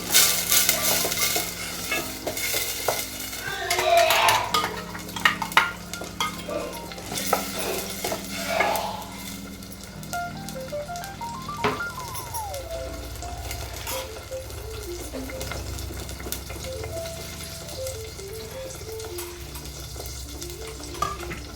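Raw ground masala paste is added to hot oil with fried onions and stirred, giving a sizzle, scraping spoon strokes and metal clanks against the pan. Soft background music plays in the second half.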